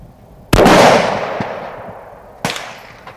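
A custom-made rifle fires at an outdoor shooting range: one sharp, loud crack with a long ringing decay, followed about two seconds later by a second fainter report, with no talking.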